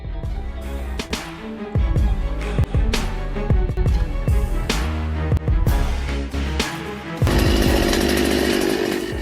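A chainsaw fitted with an extremely long chain cuts trees, roaring loudly in bursts with sharp revving changes and cracking wood, then running in a steady, harsh whine.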